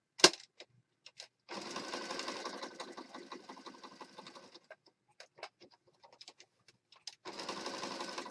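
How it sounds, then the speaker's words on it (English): Sewing machine stitching through a layered paper junk journal page, with two bursts of steady rapid whirring separated by a pause filled with scattered light taps and handling of the paper, close and fairly quiet. "I'm going to stitch around the frame here."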